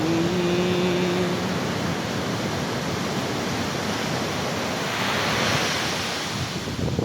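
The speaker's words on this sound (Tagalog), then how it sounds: "Wow, ang hangin." Strong wind roars steadily across a microphone on the Casiguran coast in Aurora, mixed with broad surf wash, a loud continuous rush with no pauses and no talk.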